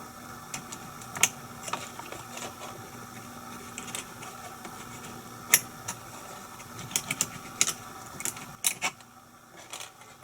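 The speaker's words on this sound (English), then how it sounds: "We need to just cut off the diaphragm." Small cutting and snipping clicks on an HO scale model passenger coach diaphragm, irregular sharp ticks and taps close by over a quiet background hum, with a few louder snaps spaced unevenly.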